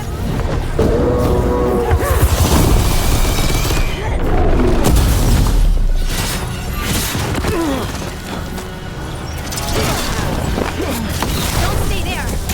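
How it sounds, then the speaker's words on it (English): Heavy booming mortar blasts hit repeatedly during a video game battle against intruders, loud and continuous, with shouting voices talking over the explosions throughout. "They've got mortars!"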